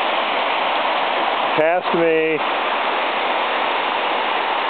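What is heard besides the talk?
waterfall on Mount Moosilauke trail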